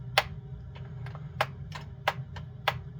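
Sharp clacky keystrokes on a Commodore VIC-20 keyboard, about nine spaced presses, crisp and close against a low background hum.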